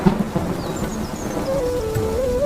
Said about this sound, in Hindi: बारिश इतनी तेज हो गई कि आगे चलने की हिम्मत नहीं बची।